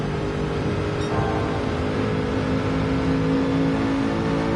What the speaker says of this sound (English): That V8 sounds really good.